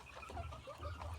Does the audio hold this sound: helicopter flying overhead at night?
no